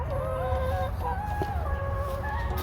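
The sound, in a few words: chickens clucking in the chicken run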